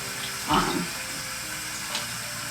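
Extremely hot tap water runs steadily into a bathroom sink while breast pump parts are washed, a soft continuous hiss with one brief louder splash near the start.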